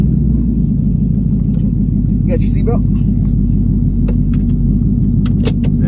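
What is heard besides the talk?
car driving and cruising around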